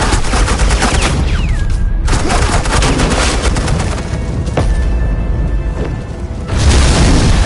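Suppressing gunfire from Batman: The Enemy Within, with booming shots and rattling bursts of fire over a dense, loud game soundscape.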